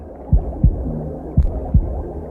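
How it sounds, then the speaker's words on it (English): A heartbeat recorded inside a mother's womb: four deep, muffled thumps in two paired beats over a steady low hum, with no voices. "It's just the heartbeat and the sounds that were recorded inside the womb of the mother."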